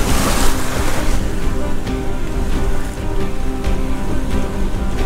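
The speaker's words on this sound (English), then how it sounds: "there are the waves that come through the reefs" Ocean waves break over reefs off the Brazilian coast, heard from a rocking sailing boat as a steady, loud wash of surf and spray, with no voices.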